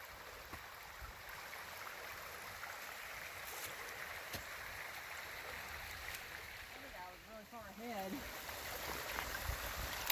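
A small stream runs steadily beside the Appalachian Trail near Watauga Dam, a faint continuous trickle and rush under quiet voices.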